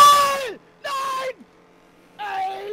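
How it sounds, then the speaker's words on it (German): Three drawn-out vocal screams, strained and wavering, each about half a second long with short gaps of silence between them, loud and close. "Hört ihr den Schrei, Freunde?"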